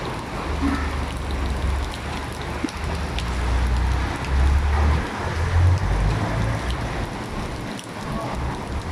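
Heavy typhoon rain pours steadily as a dense, continuous hiss, with deep rumbling gusts underneath and water gushing down from a roof nearby; no voices.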